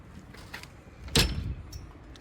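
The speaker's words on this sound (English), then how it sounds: "Let me close the door." An RV door swings shut with a single firm thud and brief rattle, close by, followed by faint shuffling in a quiet setting.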